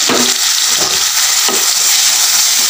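Crushed garlic and small shallots sizzling in hot oil in a pan for tomato thokku, a steady loud frying hiss with a few soft stirring scrapes, no voices.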